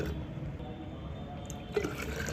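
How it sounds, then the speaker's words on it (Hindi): Plain water is poured into tea-leaf fertilizer to dilute it, giving a soft, steady liquid trickle with a small splash near the end. "तो जितना भाग आप फर्टिलाइज़र का ले रहे हैं उसका 5 से 6 गुना आपको सादा पानी मिला लेना है"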